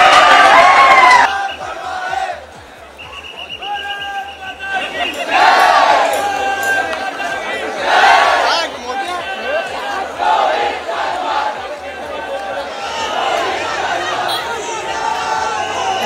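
A large crowd of cricket fans at Wankhede stadium in Mumbai makes a loud roar of shouting, chanting and cheering that swells and ebbs in waves, with scattered near voices and whistles over the distant mass of sound.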